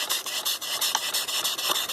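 A small portable steam engine runs with rhythmic chuffing hiss as its valve releases steam in regular bursts, roughly eight pulses per second, close and steady.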